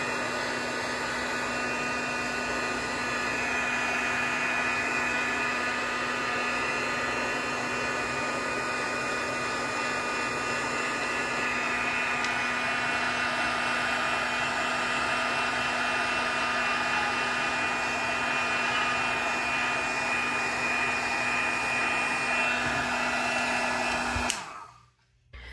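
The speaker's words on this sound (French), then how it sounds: "Je vais prendre mon pistolet chauffant" A heat gun blows hot air to dry glue on a Christmas card, a steady, close whirring hiss that holds for about 24 seconds and then clicks off abruptly.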